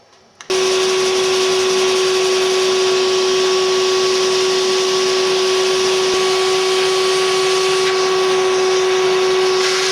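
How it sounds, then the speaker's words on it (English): A vacuum cleaner switches on and runs continuously beside leather repair sanding work, a loud steady whine and hiss with a high tonal hum, no voices. "I tend to have a vacuum cleaner continuously running"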